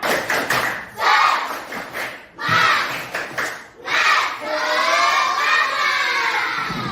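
Classroom students shout a rhythmic spirit chant, mixed with claps and thumps, loud and close, in bursts separated by short pauses before a sustained group call at the end.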